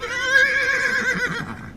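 A horse whinnies loudly and close, a long wavering neigh of nearly two seconds that fades toward the end, in an Old West setting.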